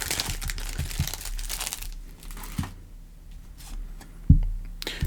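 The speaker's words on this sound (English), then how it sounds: "I'm discussing it now while I open up baseball cards" Foil wrappers of 1994 Topps baseball card packs crinkling and tearing open up close, a dense burst of crackling that thins out, followed by a few sharper rips and handling sounds.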